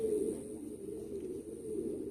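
Spanish Pouter pigeons give low, steady cooing, near and continuous, with a faint high hum behind them.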